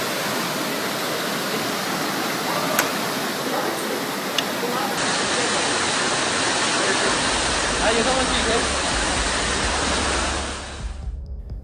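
Floodwater surges through streets in Israeli cities after torrential rain, a loud, dense, unbroken rush like a waterfall that holds steady for about ten seconds and then thins out at the end.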